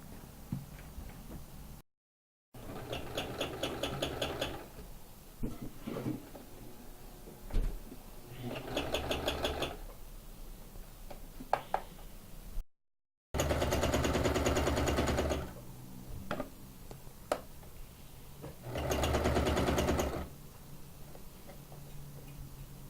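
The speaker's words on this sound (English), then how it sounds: "you're going to go ahead and turn on the sewing machine" A sewing machine runs single or zigzag stitches along the side seams of a fabric maxi skirt, sounding in repeated mechanical rattling bursts of a few seconds each, separated by pauses with small clicks and handling noises.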